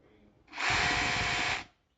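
A DeWalt hammer drill running in hammer drilling mode buzzes in one steady burst of about a second, loud and close with a rapid rattling impact texture, starting and stopping cleanly.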